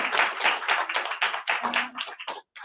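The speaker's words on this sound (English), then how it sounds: "Okay, yes, for that applause for her." A small group applauds a speaker at a yoga event, a dense burst of close hand clapping that thins out toward the end into a few scattered claps.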